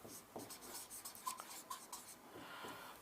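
Marker or chalk writing on a board during a chemistry lesson, quiet scratchy strokes in short uneven bursts, close and faint with no talk.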